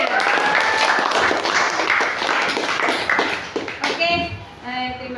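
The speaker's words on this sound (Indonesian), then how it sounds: "Tepuk tangan dong untuk Alia." A group of children and adults applaud a girl named Alia in a classroom, loud dense clapping that fades out near the end as a voice begins to speak.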